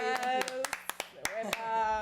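A small audience at a live-streamed music show claps in a handful of sharp, scattered hits, spaced irregularly under a person talking.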